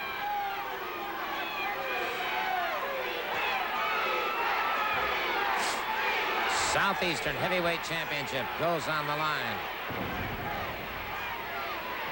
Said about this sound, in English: You can hear the crowd picking up the chant Fleabag